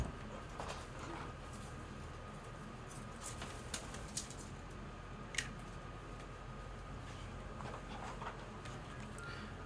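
Faint bird chirps and a few brief cooing calls sit over a low, steady background hum, with scattered light ticks and no speech.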